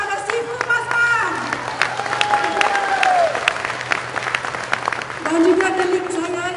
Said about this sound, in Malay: Kita bagi tepukan kepada pada Sifu Masman.